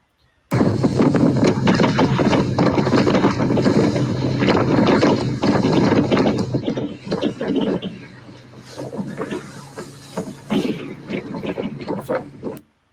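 Wind and swell at sea in Baffin Bay, heard from a boat: loud, continuous buffeting gusts and wind noise on the microphone with sloshing water, easing slightly toward the end.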